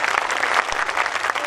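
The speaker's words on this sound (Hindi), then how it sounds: "मैं चाहता हूं पूरा सदन एक बार आदरणीय वेदव्रत वाजपेयी जी के लिए इस मुकाम पर तालियां बजा दे।" An audience at a Hindi poetry recital claps for a poet, a loud, dense burst of applause close by that fills the whole short moment.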